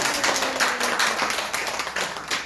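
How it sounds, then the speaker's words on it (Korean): A church congregation at a Sunday service claps to welcome a first-time visitor. The clapping is steady and dense and fills the whole moment, with no talk over it. "우리 박수로 합니다."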